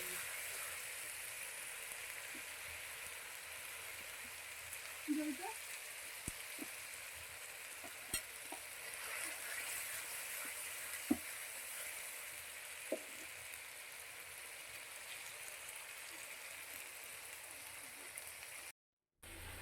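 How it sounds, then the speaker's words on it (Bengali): Onions and spices frying in an iron kadai, a steady even sizzle with a few soft knocks and scrapes, no talking. "পেঁয়াজটা একটু ভালোভাবে ভেজে নেবে, তারপরে মশলা দিয়ে দেবে"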